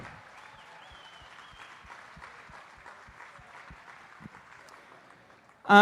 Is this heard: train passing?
no